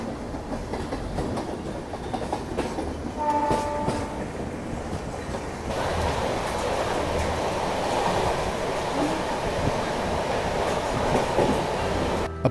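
Duronto Express train running at speed through a station, a steady loud rumble with rhythmic wheel clatter, a brief squealing tone partway through and the noise growing fuller and denser in the second half, with no talk.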